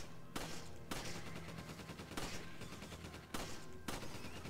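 Dense, sustained gunfire from a Resident Evil 5 firefight, loud rapid shots running almost continuously with a few sharp breaks between volleys.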